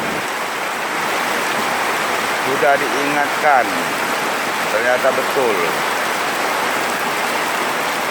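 Floodwater pours steadily into residents' houses after a faulty drainage channel project, a constant close rushing wash while a voice speaks briefly over it.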